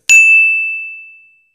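A single bright notification bell ding rings out alone, striking sharply and then ringing clearly as it fades away over about a second and a half.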